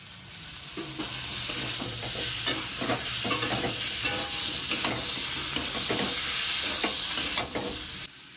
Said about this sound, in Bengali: আবারও ভালো করে আলু আর পটলের সাথে সব গুঁড়ো মশলাগুলোকে মিশিয়ে নেব।